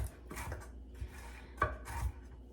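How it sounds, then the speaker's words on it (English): Knife roughly chopping pecan pieces on a cutting board: a handful of sharp, close taps spaced irregularly, quiet and alone with no talk. "So I just wanna get them chopped up, a rough chop on them."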